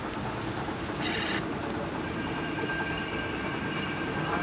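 A hand-made masala grinder runs with a steady, dense mechanical rumble and whir, a continuous grinding roar with a few brief metallic rattles early on.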